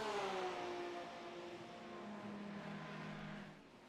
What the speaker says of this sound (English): How about this threesome of Porsche 911s going down the long straight at Road Atlanta into the chicane.